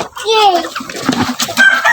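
Hens cluck and warble close by in a short, busy burst of fowl sounds.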